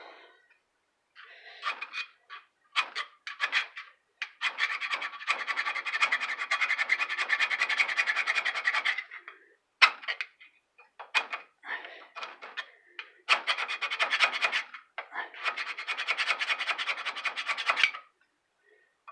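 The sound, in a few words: filing a burr off a metal edge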